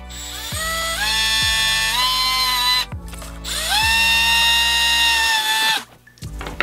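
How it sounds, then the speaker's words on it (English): A power drill bores holes into the plastic case of a Fisher Price 4 in 1 Learning Bot, whining loudly in two long bursts that each rise in pitch as the motor spins up, with short stops between them. "And then we can drill our holes."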